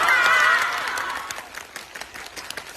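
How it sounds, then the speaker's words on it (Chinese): An audience applauds after a film screening at a roadshow event in Hangzhou, a dense burst of clapping that swells at first, then thins out into scattered claps over a lingering crowd murmur. "让我们用你们看后的掌声啊，来告诉我们的主创电影好不好看"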